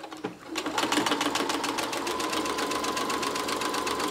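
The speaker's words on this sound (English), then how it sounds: "So I'm making sure that I'm sewing all the layers together as I'm stitching here." A sewing machine stitches through the layers of a Christmas stocking, a close, rapid run of rhythmic needle pulses that starts after a brief click and continues evenly to the end.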